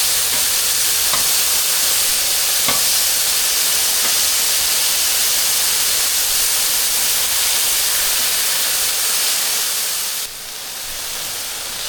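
Burgers and Conecuh sausages fry on a Blackstone griddle, giving a loud, steady, close sizzling hiss that runs unbroken and eases slightly near the end, with no talking.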